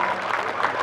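An audience at a school's golden jubilee ceremony applauds in a dense, continuous patter of clapping that fills the whole short moment.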